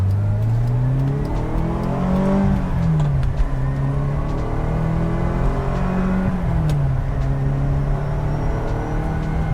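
A restored 1979 Ferrari Dino 308 GT4's V8 revs up and pulls hard in first gear, the deep note rising and falling through two strong accelerations, loud and close with a steady rumble throughout.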